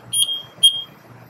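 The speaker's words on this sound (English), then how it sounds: "alarm relays have been triggered here, and you heard the alarm" Gas detector alarm triggered during an interfering gas test with CH2F2, giving two sharp, high electronic beeps about half a second apart, close and clear over low background noise.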